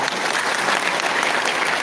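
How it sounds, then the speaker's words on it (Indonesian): A crowd at a motivational talk bursts into brief, dense applause, a steady wash of many hands clapping at once with no voices on top. "Tepuk tangan di mulia"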